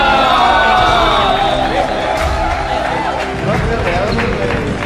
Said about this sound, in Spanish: Un aplauso para Tía Coral.